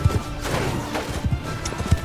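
Hooves of an armoured cataphract warhorse in the Mount & Blade II: Bannerlord video game, a steady near clip-clop of thudding steps over a busy low game ambience.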